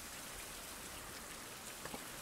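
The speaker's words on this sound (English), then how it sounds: "Let's sleep every 2 hours to see if the rain goes away." Steady rain pours down in an open-world survival game, a dense even hiss of falling water holding at a constant level throughout, with a few slightly louder drops near the end and no talk.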